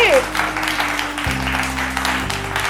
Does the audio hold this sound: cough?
no